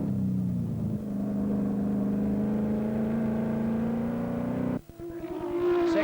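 The number 17 Ford Mustang GT racing car roars at a sustained high pitch during the 1985 Benson and Hedges 6 hour saloon car race, then drops sharply near the end as the engine note shifts before climbing again.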